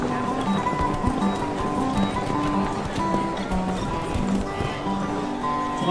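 Horses race at a Fourth of July ranch event in Hawaii. Hooves clip-clop in loose, repeated beats at middle distance, and there is a brief whinny and a busy outdoor crowd murmur underneath.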